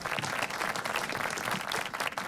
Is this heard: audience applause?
yes